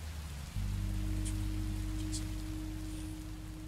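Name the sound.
rain in a video game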